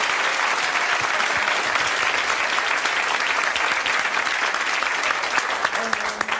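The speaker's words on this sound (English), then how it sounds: "you can give a little applause" A studio audience on a 1995 daytime talk show applauds loudly and continuously, with a dense wash of clapping filling the room and a voice faintly underneath.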